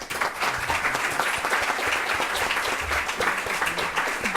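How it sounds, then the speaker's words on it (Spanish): Sustained audience applause fills an auditorium at a women philosophers' colloquium, dense steady clapping from many hands with no break, loud and close throughout. "y pedimos un aplauso para ellas."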